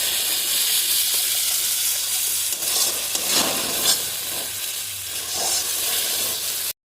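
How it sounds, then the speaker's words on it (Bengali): Cashew paste frying in hot spiced oil in a pan while being stirred, a loud continuous sizzle and hiss with scraping stir strokes swelling midway, then cutting off abruptly at the end. "কাজু বাদাম বাটা দেওয়ার সঙ্গে সঙ্গে নাড়তে হবে, নাহলে নিচে লেগে যায়"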